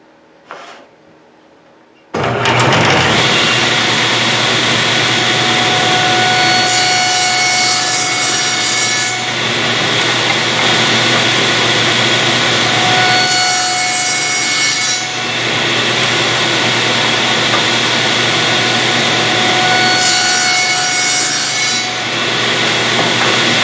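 A hand saw cuts tenons in wood against a fence. After a short quiet start, the rasping back-and-forth strokes run loud and close in three long bouts with brief pauses between them.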